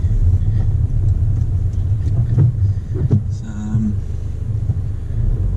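Busy road traffic on Holloway in Oxford: a steady, loud low rumble of passing cars and engines, heard close up with no break, with brief higher mechanical squeaks and tones over it.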